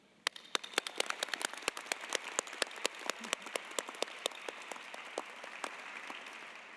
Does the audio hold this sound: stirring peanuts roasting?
no